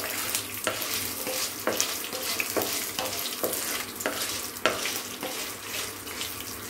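Onion and lentils saute on a low flame with a soft, continuous sizzle, punctuated by regular scraping strokes of a spoon against the pan, close and moderately quiet.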